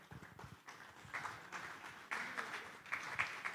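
An audience gives applause to welcome a panel moderator, a continuous wash of clapping of moderate loudness that swells in a few bursts over its short length.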